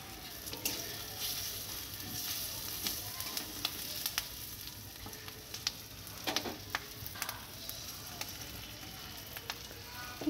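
Spices tempering in hot oil with slit green chillies for biulir dal with fried hilsa fish heads, a steady dense sizzle and crackle with scattered sharp pops and occasional utensil clicks throughout.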